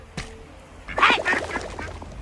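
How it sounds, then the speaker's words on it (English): A duck quacks in the indie video game Indie Cross, a short burst of loud, close, raspy quacks following a brief click. "Also, is that a duck?"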